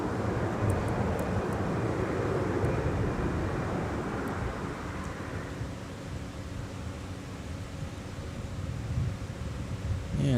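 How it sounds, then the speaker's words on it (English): A Delta Airbus A320 airliner arriving at Minneapolis–St. Paul Airport, heard as a steady, loud broadband jet roar that fades slightly partway through, with wind noise and no speech. "And now just arriving is Delta 2301. It's from Dallas Fort Worth International Airport. Airbus A320 in charge."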